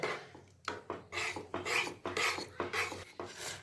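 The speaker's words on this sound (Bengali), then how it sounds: "এখন আমি আঁচ কমিয়ে খুব ভালো মতন টমেটোটাকে এই সেদ্ধ ডালের মধ্যে মিশিয়ে নেব" A spoon scraping and stirring tomato into boiled dal in a pot, a steady series of rhythmic rasping strokes against the pot, close and clear with no talk.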